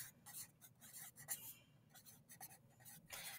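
A pen or pencil writing on a blank page gives soft, close scratchy strokes in quick irregular bursts, faint and alone.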